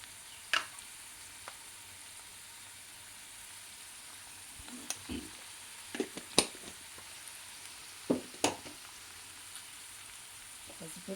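Sabudana khichdi fries with turmeric in a pan, giving a soft, steady sizzle under a scattering of sharp clicks and taps from stirring, with no talking.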